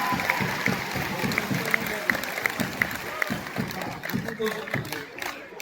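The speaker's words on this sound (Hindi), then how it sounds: "जोरदार तालियां होने के लिए एक बार।" Enthusiastic audience applause fills a hall at a Vidyapeeth program in Bhubaneswar, dense clapping mixed with crowd cheering and voices, steady and loud throughout.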